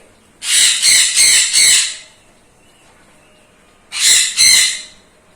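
Red sun conure parrots let out loud, harsh squawks nearby: four rapid shrieks in a row, a pause, then two more.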